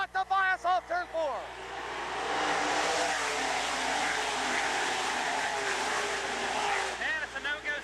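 Race cars roar past on a short oval track as one comes off turn 4, a loud sustained engine rush that swells to fill the middle seconds, framed at start and end by an excited announcer's voice.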